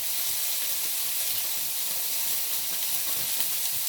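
Onions sizzle steadily in hot oil as they fry until brown, a dense, even hiss with faint crackles throughout and no talking.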